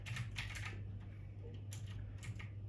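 Fingers type a drive volume name on a computer keyboard during Windows 11 setup, a quick run of soft, close key clicks in short bursts over a low steady hum, with no talking.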